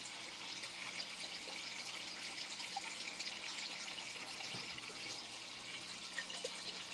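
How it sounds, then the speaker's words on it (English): An aquarium filter runs steadily, a continuous quiet rush and trickle of moving water close by, with no one talking. "There's the filter going."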